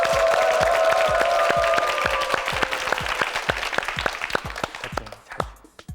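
Studio audience at a Korean TV quiz show bursts into loud, dense applause that thins out into scattered individual claps and fades away.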